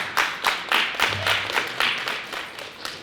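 A small crowd at a school signing day applauding a student athlete, scattered hand claps in uneven bursts at moderate distance, fairly faint, lasting a few seconds.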